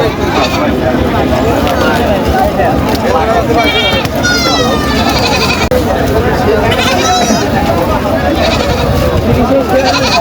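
Goats bleat repeatedly at a busy rural livestock market, with several quavering calls rising above loud, continuous crowd chatter and people talking nearby.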